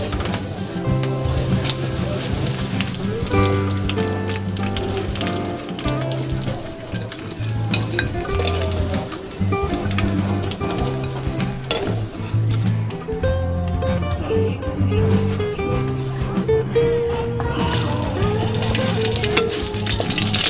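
Pork sizzles steadily in a pan for Filipino pork humba, a continuous frying hiss with clinks and stirring under background music.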